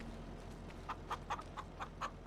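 Chickens cluck in Farming Simulator 25, a string of about six short, evenly spaced clucks that sound fairly close over a quiet, low farmyard hum.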